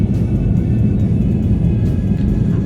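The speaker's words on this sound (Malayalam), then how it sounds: "അങ്ങനെ നമ്മളെ ഫ്ലൈറ്റ് മെല്ലെ മെല്ലെ പൊങ്ങി തുടങ്ങിട്ടോ." A passenger plane taking off, heard from inside the cabin as a loud, steady low engine roar and rumble that continues without a break.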